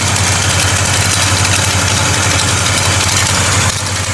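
A 1967 Pontiac GTO engine idles steadily with a deep, even rumble and a faint mechanical clanking running through it, loud and close throughout with no talk.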